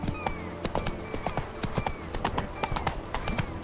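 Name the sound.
horse Roach galloping in video game Witcher 3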